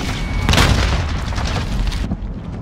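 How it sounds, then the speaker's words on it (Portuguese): A grenade blast booms loudly in a multiplayer shooter match, its deep rumbling burst rising sharply and then rolling on for about two seconds before cutting off abruptly. "Jogando granada!"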